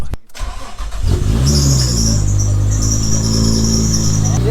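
A 700 bhp Nissan Skyline R33 with a newly installed clutch cranks briefly and fires up. It settles into a loud, close, steady idle with a deep rumble and a high whine on top.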